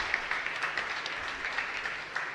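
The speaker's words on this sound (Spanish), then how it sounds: "un fuerte aplauso para cada uno de ustedes" A church congregation at a Mass in honor of San Blas claps in steady, mid-distance applause from many hands, holding at an even level without pause.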